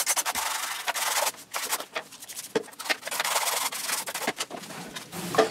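Scrubbing grime off the plastic case of a Commodore 64C with alcohol, an uneven series of close, dry rubbing strokes with short breaks between them and no talking.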